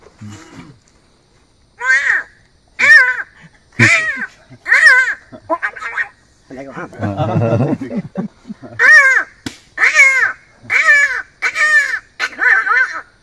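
A person imitates crow caws, a series of short harsh calls repeated in a loose rhythm, close and loud, with a brief stretch of other vocal noise in between.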